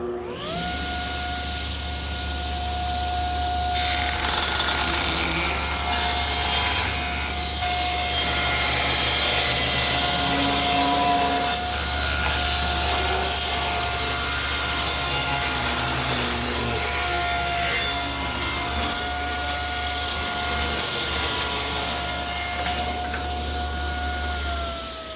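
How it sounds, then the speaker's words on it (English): Table saw ripping a thin strip off the edge of a wooden board for a coffee table: a steady motor whine with a loud, rough cutting roar that swells in the middle of the pass, then returns to the idling hum. "I'll set the saw at 3 1/2, just to remove a little bit from one edge"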